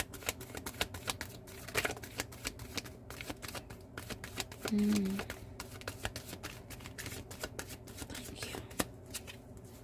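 Tarot cards are shuffled by hand in quick riffling bursts, a dense run of crisp papery clicks throughout, with a short spoken phrase partway through.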